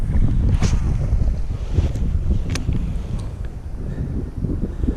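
Wind blows steadily across an outdoor fishing spot, buffeting the microphone with a loud, continuous low rumble and no talking.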